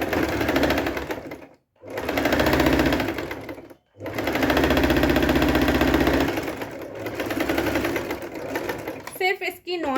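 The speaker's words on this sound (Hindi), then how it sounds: "अब मैं डबल लेयर में स्टिच करके दिखाती हूँ आपको।" A Singer Promise 1409 sewing machine stitching through double-layer fabric, its loud, close, rapid mechanical whir running in long bursts separated by brief stops.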